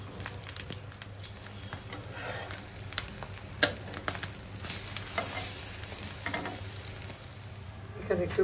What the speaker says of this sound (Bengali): আর এখানে আমি ডিমটা একটু অমলেট করে নিচ্ছি।